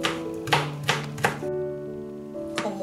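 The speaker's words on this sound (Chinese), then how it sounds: "然后蒜切末" Garlic being minced with a knife on a cutting board: about five sharp, evenly spaced chops, close and clear, with a short pause partway through and no talking.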